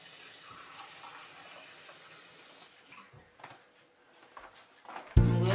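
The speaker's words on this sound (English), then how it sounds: "So I'm going to add a little water" Water gushes in a short, loud burst into a blender with onions at the very end, after several seconds of quiet background clatter.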